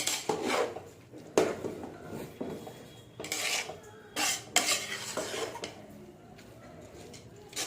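A spoon or spatula scrapes and knocks around a pan while rice is stirred on the stove, in irregular clattering strokes with soft sizzling between, close and fairly quiet.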